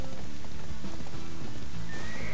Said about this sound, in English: Looks like it's starting to rain.